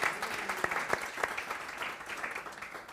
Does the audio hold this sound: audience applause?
yes